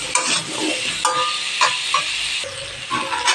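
Pumpkin pieces fry with salt and turmeric in a village kitchen, making a close, loud crackling sizzle with repeated stirring scrapes and clicks.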